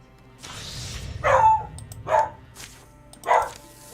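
A dog barks three times in short, sharp bursts against a quiet background, moderately close, with a softer yelp early on and gaps of about a second between barks.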